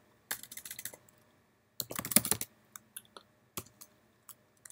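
Computer keyboard typing as commands are entered, in quick clustered bursts of keystrokes with a denser flurry in the middle and scattered single taps afterward, close and clear with no talking.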